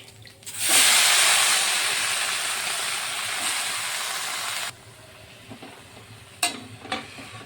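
Bottle gourd shoots tipped into a hot pan set off a loud, close burst of hissing sizzle that slowly eases off and then cuts out, followed by a few utensil knocks. No one talks.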